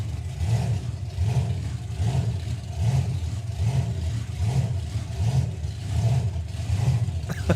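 Drag racing cars at a nostalgia drag meet roar down the strip in a loud, sustained engine blast with a pulsing, hunting rhythm, heard from trackside with no talking.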